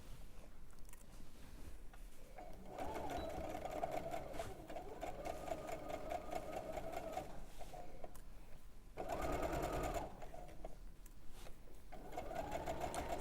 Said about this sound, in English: quite soporific, isn't it, listening to someone else on the sewing machine?